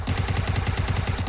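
Rapid automatic gunfire in PUBG Mobile, a fast even burst of close, loud shots, roughly a dozen in just over a second, with no talking.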